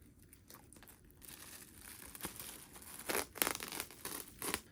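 Plastic packaging on a vinyl record being cut open with scissors, heard close up as a run of crinkling, rustling and tearing that grows busier toward the end, with no talk.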